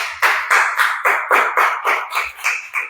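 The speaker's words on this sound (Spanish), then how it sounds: "Denle una ofrenda de palmas a nuestro Dios" A church congregation claps in a steady rhythm of about a dozen sharp, even handclaps, close and loud, with no talking over it.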